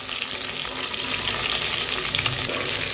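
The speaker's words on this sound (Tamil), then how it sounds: "வெண்டைக்காவும் கொஞ்சம் நேரம் வதக்கி விட்டுடலாம்." Okra sautéing in a pan with drumstick and brinjal for a tamarind curry, a steady close sizzle with faint stirring scrapes throughout and no voices.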